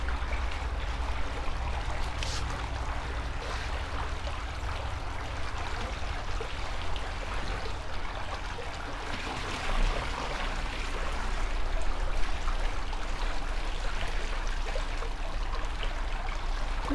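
Water poured steadily out of a container onto a tiled floor, a continuous trickling splash lasting throughout with a slight swell partway, no voices.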